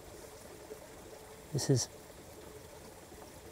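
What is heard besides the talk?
ice cold spring water flowing out of sand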